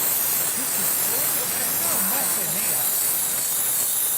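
A Polti steam cleaner releases a steady, loud hiss of steam throughout, with faint voice-like tones drifting underneath.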